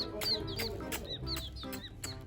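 Young chicks at home chirp and cluck in a steady run of high, repeated peeping calls, close and fairly loud.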